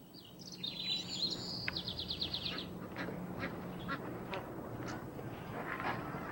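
Ducks quacking and calling around a fish-farming carp pond in southern China, a quick run of nasal quacks at the start followed by scattered calls over a steady low outdoor background.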